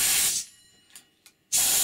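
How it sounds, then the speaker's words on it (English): Compressed air hisses loudly through a crude open Tesla turbine in two strong blasts separated by a quiet gap, with a couple of faint soft puffs in between. "As you can see in this demonstration of a crude open Tesla turbine, the compressed air does spin the turbine."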